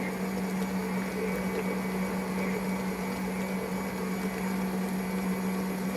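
Electric mixer creaming half a cup of butter with sugar for cookie dough, a steady, even motor whir with a constant hum, running without a break and with no speech.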